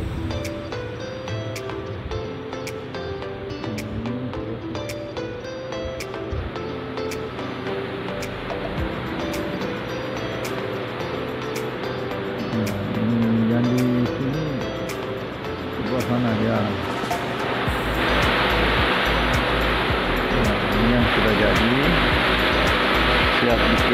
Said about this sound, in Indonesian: Nah ini mesin-mesin pemotong semua.